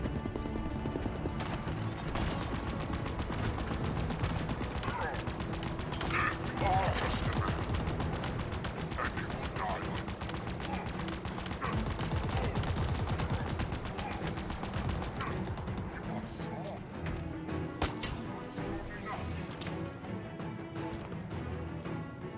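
Automatic gunfire from an assault rifle in the Halo video game, with rapid bursts recurring across a dense mix of game sounds, loud and continuous throughout.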